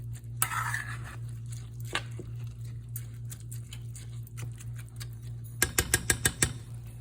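A pot of arroz con gandules bubbles with a soft steady patter over a low hum, followed near the end by a quick run of sharp metallic clinks.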